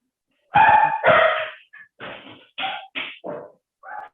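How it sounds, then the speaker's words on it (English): Several loud, close dog barks and yips in quick succession, two long opening barks followed by shorter ones in an irregular rhythm, with no voices. "My dogs."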